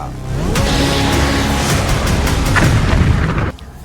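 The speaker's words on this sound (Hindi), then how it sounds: "लेबनान में तेज धमाके की आवाज गूंज रही है।" A loud, sustained rumbling explosion boom in Lebanon with broadband roar that cuts off abruptly near the end.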